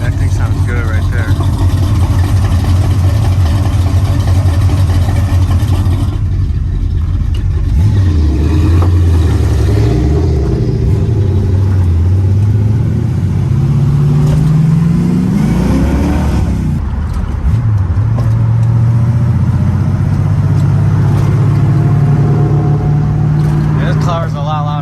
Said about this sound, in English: Car's a lot louder than mine.